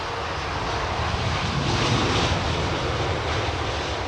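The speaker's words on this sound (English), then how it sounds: "Very shallow flare for the Dreamliner." Boeing Dreamliner airliner landing at London Heathrow, a broad, loud roar of jet engines and rushing air that swells slightly in the middle and stays steady and close throughout.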